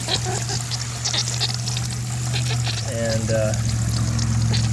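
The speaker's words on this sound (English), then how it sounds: "slow down the stream a little bit. It'll keep fresh water cruising into the cooler, though." A steady stream of fresh water pours into a cooler used as a bait tank on a Waverunner, a continuous close splashing trickle over a low engine hum, with someone speaking briefly.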